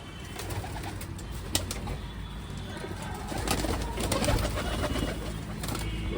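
Pigeons coo steadily at a loft during feeding time, low throaty calls layered over a continuous bed of bird sounds, fairly close and moderately loud, with no talking.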